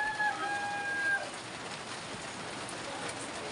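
Native chickens crowing and clucking at a home in the Philippines, with a few bright calls in the first second over steady rain-like background hiss, then quieter fowl sounds.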